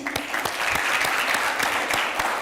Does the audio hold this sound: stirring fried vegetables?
no